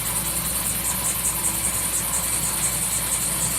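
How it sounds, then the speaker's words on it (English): Air compressor running in a workshop, a continuous, even mechanical drone with a steady hum underneath, loud and close without pauses. "And there's the air compressor."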